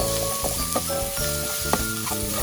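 Boiled pork for a northern Thai mustard greens curry stir-fried in a little oil, a dense continuous sizzle with repeated spatula scrapes and taps against the pan, close and steady, without speech.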